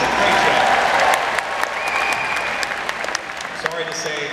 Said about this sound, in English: How about a big round of applause for Madison?